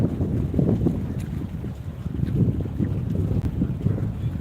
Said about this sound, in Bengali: শঙ্করপুর মৎস্য বন্দর থেকে সরাসরি লাইভ প্রচুর ট্রলার রয়েছে সারি সারি